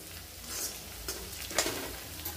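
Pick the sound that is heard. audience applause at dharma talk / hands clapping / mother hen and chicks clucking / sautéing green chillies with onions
sautéing green chillies with onions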